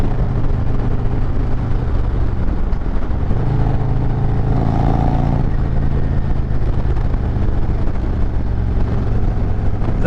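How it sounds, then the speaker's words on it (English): A 2022 Harley-Davidson Road Glide Special in Redline Red with a Stage 4 engine being ridden, a loud, continuous low engine drone with wind rush and a brief shift in pitch partway through, no talking. "The motorcycle turns very well, very easy."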